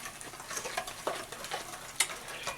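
A spoon works through wet pumpkin muffin batter in a bowl, making soft sticky squelches and scattered light scrapes and taps at an irregular pace, close and fairly quiet.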